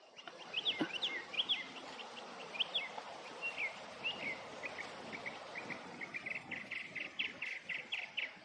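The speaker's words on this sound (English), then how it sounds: "This dang mockingbird keeps screaming no, so I can't hear the other birds" A mockingbird calls repeatedly in a wooded area, sharp, fairly faint chirps and harsh notes that repeat in quick phrases over a steady background of insects and other birds, with no talking.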